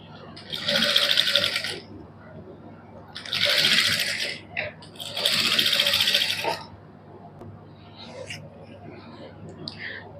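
Sewing machine stitching the neckline of a printed suit, running in three loud, steady bursts of a few seconds each, with brief pauses and faint handling noises between them.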